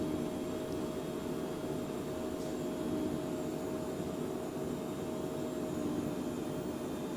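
Steady broadband roar of Phenom business jet engines at takeoff power in a flight simulator game, an even, unbroken whoosh with a faint high whine and no talking.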